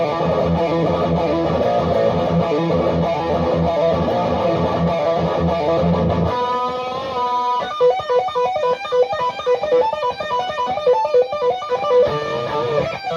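Electric guitar through a Synergy IICP preamp module plays a dense, heavily driven chug, then shifts to quicker picked melodic lines with a distorted tone, loud and alone throughout.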